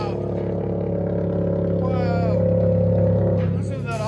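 A Toyota GT86 2.0L with straight-pipe exhaust idles loudly nearby with a constant deep drone, while people talk over it.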